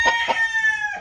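A young Asil rooster lets out a short, thin crow with a couple of sharp opening notes and a held tone, close by and loud.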